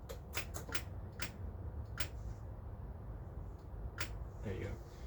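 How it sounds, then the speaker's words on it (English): Fuel pump on a 2000 Honda CBR600F4 motorcycle clicking: a quick cluster of sharp, faint ticks early on, then isolated clicks spaced a couple of seconds apart over low background noise. "You should hear clicking from your fuel pump"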